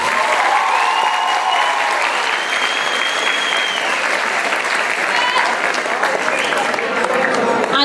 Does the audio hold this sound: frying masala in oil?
no